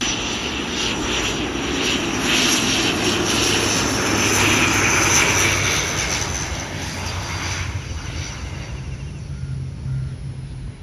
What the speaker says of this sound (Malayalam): കണ്ണൂരിൽ നിന്ന് വന്ന ഒരു ഇൻഡിഗോയുടെ ATR വിമാനമാണ് ഇപ്പോൾ അങ്ങോട്ട് ലാൻഡ് ചെയ്തത്